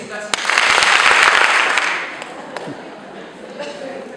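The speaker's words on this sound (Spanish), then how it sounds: "Están aplaudiendo." A few sharp single claps lead into a swelling burst of audience clapping at a literature course session, which fades after about two seconds into sparse, isolated claps.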